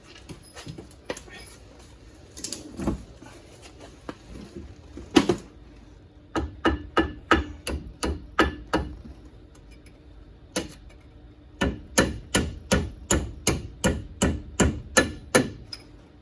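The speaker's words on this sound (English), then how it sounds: "Grab your hammer, your trusty hammer." A hammer strikes metal in bursts of sharp, ringing blows while replacing front brake pads on a 2010 Dodge Challenger 6.1, a few scattered hits then quick runs of evenly spaced strikes, close and loud.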